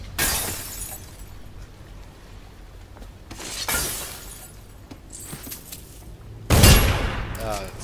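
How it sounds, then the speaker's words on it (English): A gunshot fires in the stealth video game Dishonored, one sharp loud crack with a short crashing tail, set among quieter game ambience and earlier bursts of noise. "I actually didn't mean to shoot that time."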